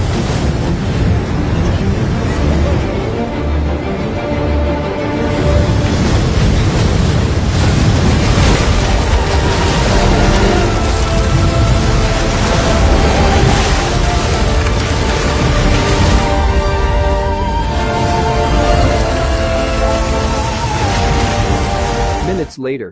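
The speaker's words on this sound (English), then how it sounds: "he heard the roar of the water" Loud, continuous roaring of churning water and surf with heavy wind noise, a dense rushing wall of sound that never lets up.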